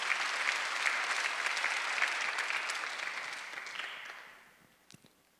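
A church congregation applauds during a Sunday worship service, steady clapping held for several seconds and then fading out to quiet, with a few stray claps at the end and no talk over it.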